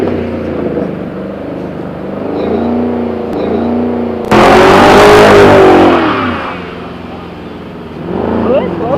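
A V6 Ford Mustang and a Ford Focus trade revs in a street rev battle, engines climbing and falling in repeated pulls with a loud, close burst of hard revving mid-way, voices and crowd noise around them.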